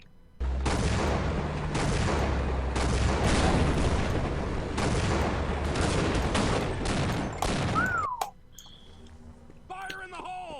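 A mounted gun in A Soldier's Tale fires loud, continuous bursts for about eight seconds, then cuts off to quieter game sounds and a voice.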